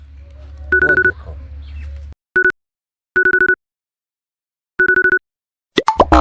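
A mobile phone rings in repeated short bursts of bright electronic tones separated by brief silences, following a moment of background noise and ending with a voice starting to speak.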